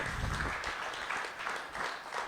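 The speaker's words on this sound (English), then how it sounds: "I think that deserves another round of applause." Applause from an audience at a business council Q&A forum for Nairobi gubernatorial candidates, a short, fairly soft wash of clapping that continues steadily for a couple of seconds.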